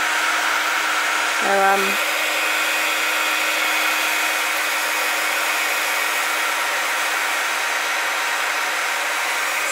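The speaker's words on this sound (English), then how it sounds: "I hope you can hear me over the heat gun." Heat gun blowing steadily close by while a candle is being decorated, giving a loud continuous whooshing hiss with a hum that lasts throughout, and a person speaks briefly over it near the start.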